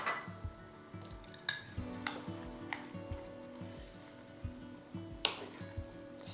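Utensil scraping and clinking in a pan as a stir fry with jalapenos is mixed together, a steady series of soft, close knocks and scrapes with a few sharper metallic taps.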